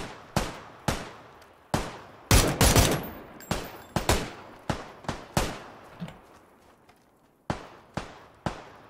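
Gunfire in the video game PUBG: a steady run of sharp single shots, close and loud, with a tight cluster of rapid shots early on and brief gaps between the rest.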